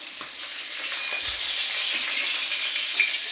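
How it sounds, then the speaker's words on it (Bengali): Fish sizzling steadily in hot oil while being fried for a rainy-day curry of freshly caught jiol fish, a continuous close, even crackle with occasional sharper pops and no voices. "এই যে মাছগুলো আমি ভেজে নেবো।"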